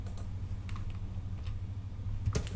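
Rapid, light clicking of keys on a wireless computer keyboard, typed close by in a quiet room in an irregular patter of taps, ending with a few heavier thumps.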